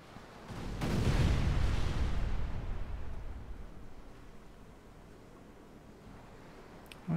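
A deep, booming ship cannon blast in a video game that swells quickly, then rolls and fades slowly into a long rumbling tail.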